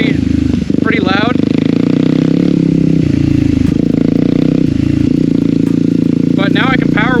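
A Yamaha WR250R motorcycle with a GPR exhaust and its baffles removed runs loud and close. A raw, constant engine roar carries sharp revving climbs near the start and again near the end, with a brief clattering crackle.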